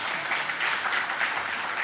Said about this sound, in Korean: 감사의 마음으로 다시 한번 박수